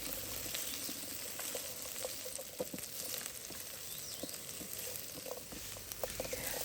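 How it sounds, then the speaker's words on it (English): Beef kidney and onions sizzle softly in a pan, a faint, steady crackle with scattered small pops and spits throughout. "we're going to fry them for a minute or two together with the onions"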